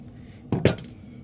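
Two quick, sharp snips cut through fabric for a lounge wear top, close up and a fraction of a second apart, over a quiet room.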